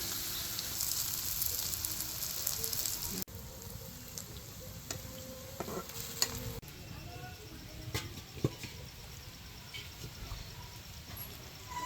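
Soft continuous sizzling and crackle of eggplant frying in a pan, with a few sharp clicks and scrapes, fairly quiet and close.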